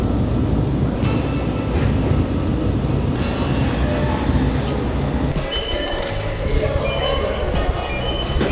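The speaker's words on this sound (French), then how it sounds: "On vient de faire 40 minutes de trajet en métro." A metro subway train in Japan carries riders in a loud, steady rumble, with clinks and rattles from the cars throughout and no talk.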